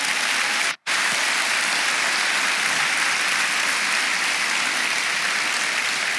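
A church congregation claps together in sustained, dense applause, loud and even throughout, broken only by a split-second gap near the start.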